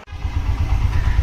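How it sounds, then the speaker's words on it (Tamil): A single-cylinder goods vehicle carrying a heavy load climbs a hill road between Wayanad and Gudalur, its engine giving a loud, low, steady throbbing drone close by. "சிங்கிள் சிலிண்டர் இன்ஜினில் இவ்வளோ லோடையும் வச்சுட்டு இந்த ஹில்ஸுங்க"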